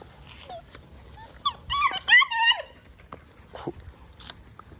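Malinois puppies whine and whimper over a raw beef rib, with short high-pitched whines and yips clustered in the middle among soft chewing and rustling, up close.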